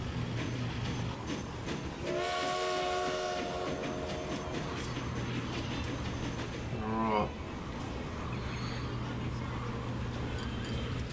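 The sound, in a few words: freight trains running in video game Transport Fever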